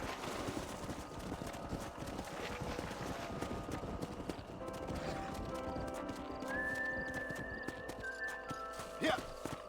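Horses' hooves clip-clop at a steady trot in the Western video game Red Dead Redemption, with a neigh breaking through near the end over wind and ambient game music.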